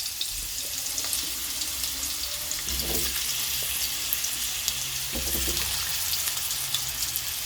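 Sweet potato and other vegetables frying in a pan over a dry chilli tempering, making a steady broad hiss with a couple of soft clunks as pieces go in; no voices.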